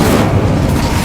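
A single Incendio fire spell blast from Hogwarts Legacy, a brief loud booming burst with heavy low-end rumble filling the moment, no voices.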